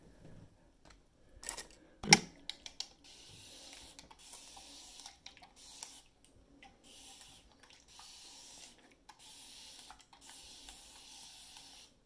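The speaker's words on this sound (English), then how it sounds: "I'm going to spray it some more really carefully" Several short hissing sprays from a spray bottle misting water on hair in quick bursts, close by, after a couple of sharp clicks, in an otherwise quiet room.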